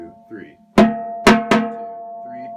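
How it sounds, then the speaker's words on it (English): A high school drumline's third bass drum pounds out a cadence fragment: three loud, resonant hits close together, the last two in quick succession, with a sustained ringing tone and faint background sounds around them. "that third bass drum. Sounds like this."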